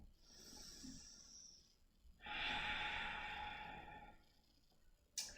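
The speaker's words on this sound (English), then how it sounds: "Last breath here." Slow, deep breaths during a vinyasa yoga practice, a soft inhale followed by a longer, fuller exhale, heard close and quiet with no talking.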